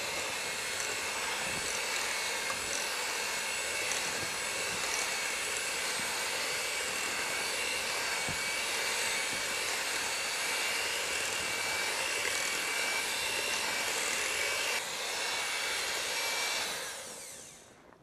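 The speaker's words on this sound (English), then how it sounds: "turn on our mixer so it'll get loud for just a minute" An electric kitchen mixer whirs steadily while blending brown sugar and butter for a cushaw pie, a loud constant motor drone that holds for about fifteen seconds before winding down and stopping.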